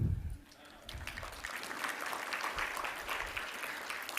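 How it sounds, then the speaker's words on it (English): An audience at a health partnership conference breaks into applause, a broad continuous clatter of many hands that swells after a brief low thump and holds steady to the end. "I want you to give yourself a round of applause"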